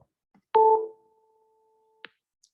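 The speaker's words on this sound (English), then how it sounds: "Now I'm going to add some more complexity to the frequency," Synthetic tone built from two steady pitches sounding together, a short loud burst that quickly fades into a thin sustained hum, followed by faint clicks.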